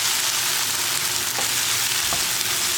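Beef pieces fry in a pan over a medium flame for a Kerala-style nadan beef fry, giving a steady close sizzle with a couple of soft stirring knocks.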